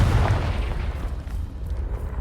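A deep, rumbling blast from a Confringo fire spell in Hogwarts Legacy booms loudly at the start and then rolls into a low, fading roar.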